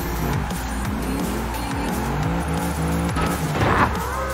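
Loud, continuous engine roar with shifting revs and squealing tires from a car in a racing video game, one sustained stretch with no talk.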